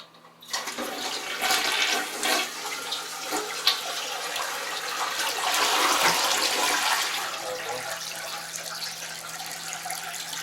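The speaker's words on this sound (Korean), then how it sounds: "이렇게 화장실 물 내려볼게요." Toilet flushing in a small studio apartment bathroom: a loud rushing swirl of water starts abruptly, surges midway, then tapers into a quieter refill trickle, close by with no talking.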